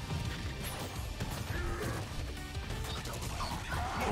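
A heavy smashing hit from the Shatter move in a Killer Instinct tournament match lands amid a dense, constant wash of game effects and crowd noise, with no clear pause across the stretch.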